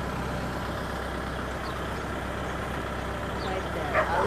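A Kubota tractor's engine idles steadily at close range, a continuous low rumble holding even throughout, with a faint brief higher squeak near the end.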